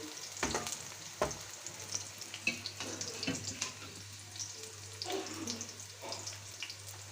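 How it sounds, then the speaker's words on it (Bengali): Prawns frying in a pan with softened onion and green chilli for a bottle-gourd curry, a steady sizzle with clattering spatula scrapes and knocks as they are turned, under a low constant hum. "উল্টিয়ে পাল্টিয়ে চিংড়ি মাছগুলো একটু ভেজে নিব চিংড়ি মাছ পেঁয়াজ কাঁচামরিচ একসাথে ভেজে নিচ্ছি"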